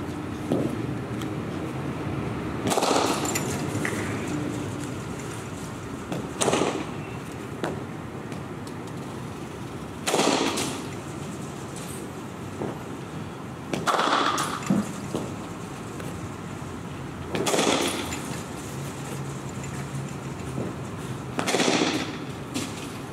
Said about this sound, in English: We'll go back to hitting a couple more balls.